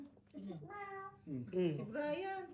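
A cat meows in a few drawn-out, rising-and-falling cries while playing with a person, close and fairly clear, with people talking nearby during a Tongits card game.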